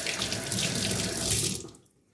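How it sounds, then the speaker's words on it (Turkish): Tap water running into a sink while hands are washed, a close, steady splashing rush that stops abruptly near the end. "Ellerimi bir yıkayım."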